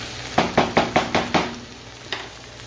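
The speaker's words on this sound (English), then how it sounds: "just stir them just until, you know, our veggies start to get a little soft" Vegetables stir-fried in a pan, a quick run of six evenly spaced knocks and scrapes of a utensil against the pan, then one more after a pause, close and fairly loud over a faint sizzle.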